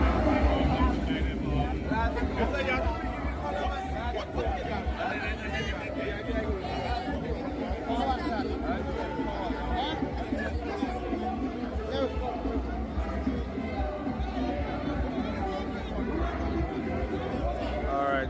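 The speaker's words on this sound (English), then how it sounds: "Opening night, massive crowd." A massive crowd fills the air with continuous chatter and murmuring voices on opening night of a jazz festival, a dense steady babble with no single voice standing out.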